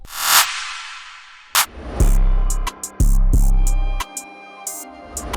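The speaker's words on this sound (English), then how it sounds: "we can go to the reverb clap, put it right here and just layer it" A programmed drum beat in FL Studio plays alone: deep booming kicks and sharp hits with a reverb-washed clap layered on top, its tail ringing out between punchy, closely spaced strikes.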